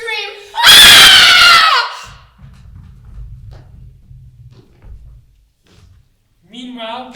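A loud, shrill scream from several voices in a comic stage retelling of Romeo and Juliet lasts about a second. Quiet knocks and rustling follow, with brief speech at the start and end.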